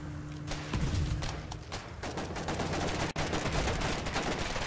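Dense, rapid gunfire from a shooter video game, with a steady stream of overlapping shots and bursts filling the whole stretch at close, loud range and no pauses.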